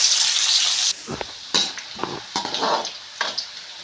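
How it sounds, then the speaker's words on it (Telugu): Onion, curry leaves and dried red chillies fry in hot oil in a pan for a spicy stuffed eggplant curry. A steady bright sizzle breaks into close clanks and scrapes of stirring, then quieter crackling between the strokes. "ఇవి నూనెలోకి వేసుకున్నాం ఒకసారి కలుపుకున్నాము"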